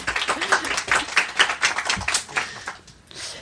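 An audience at a live evening talk event applauds, with uneven clapping and a few distinct hand claps that thin out toward the end, mixed with some background voices.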